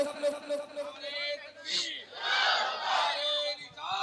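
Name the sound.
crowd shouting the Takbir slogan loudly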